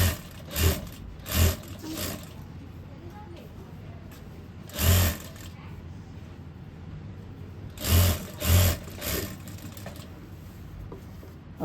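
A sewing machine stitching a trouser belt, running in several short bursts separated by pauses, close and clear, while a person talks throughout.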